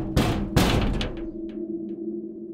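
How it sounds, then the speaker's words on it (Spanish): Two loud, resonant knocks land on a front door one after the other, followed by a low ringing hum and a few faint later taps. "un golpe fuerte y resonante en la puerta principal me sacó de mi letargo."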